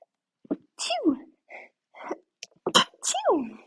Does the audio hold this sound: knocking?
no